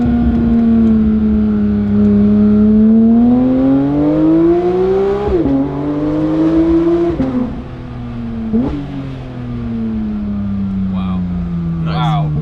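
A Porsche 992.2 GT3 engine pulls hard through the gears on an open road, loud and close, its rising howl broken by quick upshifts before settling into a steady high drone.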